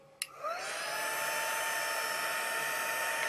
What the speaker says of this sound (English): And so I've got my heat tool,